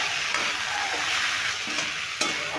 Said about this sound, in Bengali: আমি আলুটাকে একটু নেড়ে ভেজে নেবো একটু লালচে করে